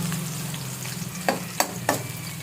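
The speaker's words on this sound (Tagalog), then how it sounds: "Hayaan muna natin siyang igisa ang bawang at sibuyas natin." Garlic and onion sauté in a pan with a steady, quiet sizzle, and three sharp stirring scrapes cut through near the end.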